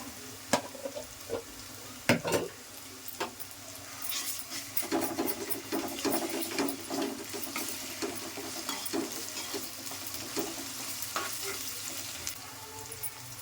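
Onions sizzle and fry in a pan for a curd brinjal curry, with a continuous close crackle and occasional scraping stirs throughout, no talking.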